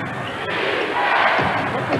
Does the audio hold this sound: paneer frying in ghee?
no